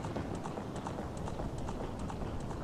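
Horse hooves in The Legend of Zelda: Ocarina of Time clip-clop in a steady galloping rhythm, quiet and even across the short stretch with no talk over it.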